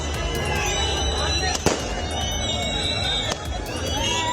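Firecrackers crack sharply twice, loud and near, over a dense, continuous roar of cheering cricket fans celebrating in a Siliguri street crowd, with constant crowd babble underneath.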